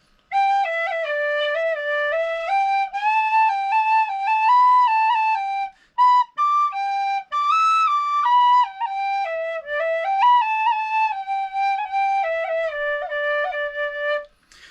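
A solo PVC Irish flute plays a lively melody of clear, bright notes, pausing briefly midway before continuing.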